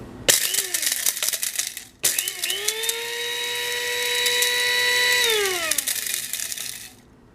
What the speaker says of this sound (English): I did also purchase a herb and spice grinder, and right now I have the I guess allspice berries in there